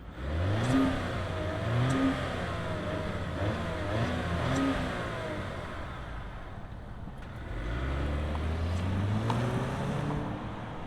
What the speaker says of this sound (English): let's fire up this 4-banger Volvo and see it roll.